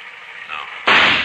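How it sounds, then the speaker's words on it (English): A gunshot sound effect in a radio western drama bursts out sharp and loud after a short, quieter lead-in and then rings briefly before fading. "I'm going to flip a shot at the tree, Chester."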